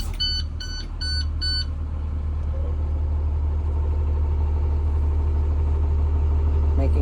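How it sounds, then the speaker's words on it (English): A diesel school bus engine runs at a steady, loud low idle in a close-up recording, preceded at the start by a short series of repeated electronic beeps from the dash. "We are going to now safely start the engine."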